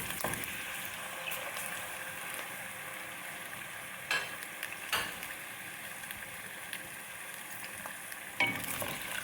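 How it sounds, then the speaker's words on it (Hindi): Chicken for a chicken karahi frying in hot oil over a medium flame, a low steady sizzle with occasional sharper clatters from a utensil, fairly quiet and with no talking. "ऑयल हमारा गर्म हो गया है। अब हम इसमें सबसे पहले डाल देंगे चिकन।"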